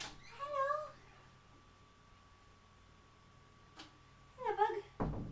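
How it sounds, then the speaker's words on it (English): A cat meows twice, once at the start and again near the end, each a clear wavering cry heard fairly close against a quiet room. "oh, I hear cat."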